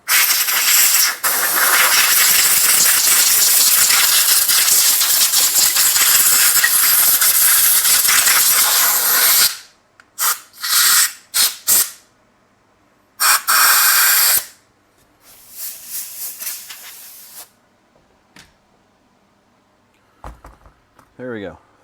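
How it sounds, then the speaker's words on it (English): Compressed air blasts dust out of the rear brake caliper of a Honda CBX, a loud continuous hiss for about nine seconds followed by several short sharp bursts with brief gaps between them. "So I'm going to blow all the dust out of this now."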